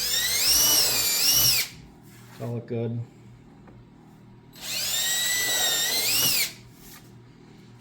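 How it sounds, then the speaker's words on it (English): A power drill bores holes in scrap wood for a rustic kindling box, two long whining runs of the motor separated by a short pause with a few knocks, and a voice speaking briefly between them. "Counter or drill the holes."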